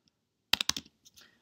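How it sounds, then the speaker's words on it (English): Computer keyboard typing, a quick burst of four or five close clicking keystrokes followed by a couple of softer taps, quiet and alone. "as you can see, not very good typing, right?"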